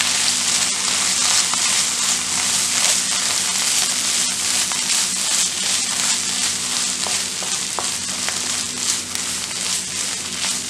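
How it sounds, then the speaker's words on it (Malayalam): Mussel thoran (kallumakkaya) fries in clear oil in a pan and is stirred, making a loud, steady crackling sizzle close by with occasional scraping, and no voices. "ഒന്ന് ഇളക്കി കൊടുക്കാം."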